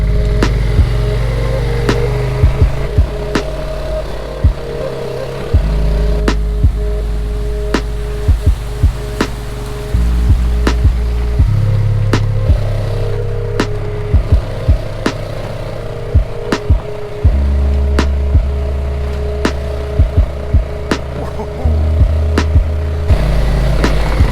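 A four-wheel drive vehicle climbs a rough track toward a mountain lake, its engine droning steadily while gears shift and the body clunks and rattles with frequent sharp knocks over bumps throughout.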